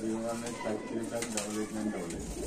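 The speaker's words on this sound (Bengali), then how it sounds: "চলে আসলাম আমাদের প্রাণপ্রিয় আদনান ভাইয়ের কবুতর লফটে" Pigeons coo in a loft in Dhaka, a soft repeated throaty cooing close by, layered over someone talking throughout.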